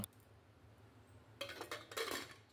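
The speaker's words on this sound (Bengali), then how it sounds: "এবার একটা চামচের সাহায্যে নেড়ে দিয়ে কুকারের ঢাকনাটাকে বন্ধ করে দেব।" Spoon scraping and clinking inside a pressure cooker with bottle gourd, quiet at first, then a short burst of metallic clatter as the lid is set on and closed.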